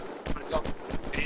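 Gunfire and a flashbang burst in the zombie survival game Unturned: a run of about six loud, evenly spaced booming shots, each with a short ringing tail, close and prominent.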